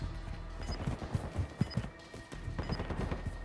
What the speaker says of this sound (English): Throwing decoy grenade.